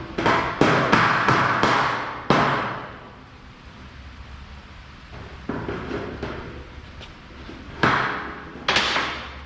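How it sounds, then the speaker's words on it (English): Hammer strikes on a metal flange of a 1967 Chevelle while installing bigger wheel tubs: a quick burst of four or five sharp, ringing blows, a pause, then a few more scattered hits in a garage. "I'm beating on this flange."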